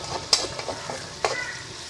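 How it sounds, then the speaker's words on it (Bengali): Chicken frying in a pan for hakka chow mein, a soft sizzle broken by a few sharp scrapes and clinks of stirring, fairly close and without talking. "এটা একটু ভাজা হয়ে যান"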